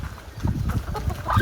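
Black karunkozhi chickens clucking on a farm, a few soft, low clucks close by with rustling, then louder calls rising near the end.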